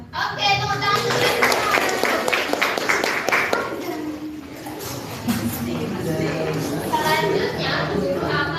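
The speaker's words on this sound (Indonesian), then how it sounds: "tepuk tangan dulu" Students clapping together in a microteaching classroom lesson, a burst of rhythmic hand claps with children's voices chattering around it, followed by the teacher talking.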